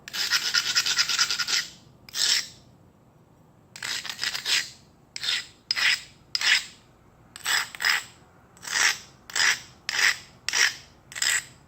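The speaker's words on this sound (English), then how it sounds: "On the side there, I'm going to rub it pretty good." Stone rubbed firmly against the edge of a flint slab during flintknapping, a series of about a dozen short, dry rasping strokes in steady rhythm, close and fairly loud with brief pauses between them and no talk.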